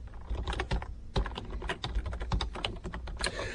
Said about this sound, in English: And type.